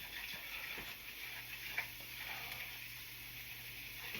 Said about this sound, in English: I'm about to put those onions down